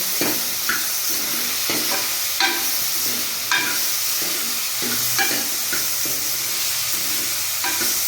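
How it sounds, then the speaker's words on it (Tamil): Tomatoes sautéing in oil with rock salt for a brinjal fry, a continuous close sizzle broken by regular stirring scrapes and taps throughout. "தக்காளியும் நல்லா ஓரளவுக்கு வதங்கணும்."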